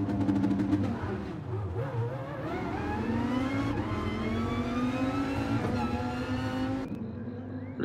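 Viper GT3 race cars roar together at the start of a race at Spa in a racing video game, engines revving and climbing steadily in pitch as the field pulls away, loud and continuous with no talk.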